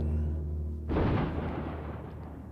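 Naval guns of three cruisers open fire in a sudden heavy boom that rolls into a long, loud rumbling decay, heard after a low steady hum with no talking.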